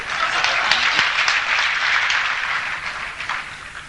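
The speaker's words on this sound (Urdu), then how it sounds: "اس کی استقبال میں تالی بجا دیجیے اس کے" Audience at an Urdu poetry recital applauds to welcome a friend, a dense, steady burst of many hands clapping together, fairly loud and close, lasting a few seconds.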